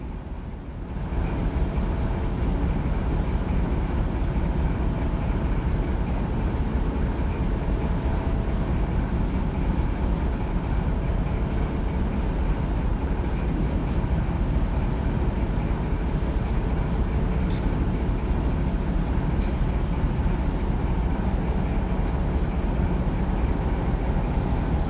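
A Union Pacific freight train gathering speed over a summit on the Mojave Subdivision, heard from the cab as a loud, steady engine roar and rumble of wheels with occasional faint clanks.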